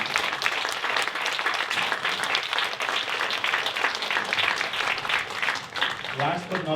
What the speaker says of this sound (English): your applause will tell me yes or no